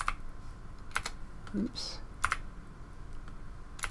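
Sparse clicks and taps on a computer keyboard while a command is entered on Linux, close and light, with a brief spoken interjection in the middle.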